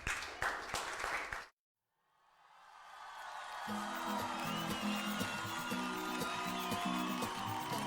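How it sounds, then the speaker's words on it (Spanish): Brief clapping is cut off by a moment of silence, then a church congregation's applause and cheering swell back in over sustained music with keyboard chords, building to a steady roar. "Un aplauso al Señor."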